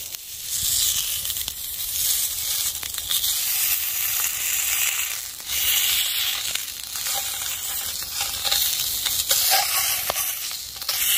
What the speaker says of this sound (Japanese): このデカベーコンを一気にいっちゃいます。